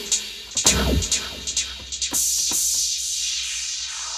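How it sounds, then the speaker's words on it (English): A snare sample from a warped electronic drum kit, struck several times in quick succession as short, sharp cracks. They are followed by a sustained wash of bright, noisy tail. "Now with this warped kit, I'm going to try to find a couple cool sounds I like. I really like this snare."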